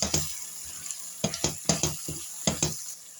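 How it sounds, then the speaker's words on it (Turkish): Bursts of crackling sizzle and scraping as vegetables with black pepper are sautéed in a hot pan, stirred in several uneven strokes with short pauses between them. "Hepsini birlikte kavuruyorum."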